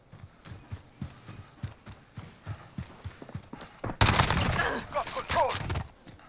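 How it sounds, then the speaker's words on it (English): An MP5/10 submachine gun firing 10mm Auto rounds in Call of Duty Modern Warfare: soft rhythmic thuds lead into a loud, sudden burst of rapid gunfire that fills the final two seconds. "definitely puts them down quicker with those 10mm auto rounds"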